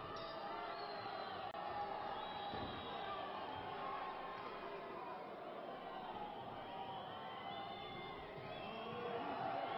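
A crowd at a professional wrestling match boos and murmurs in a steady, dense roar that lasts the whole time, heard from a distance on a dull, muffled old recording.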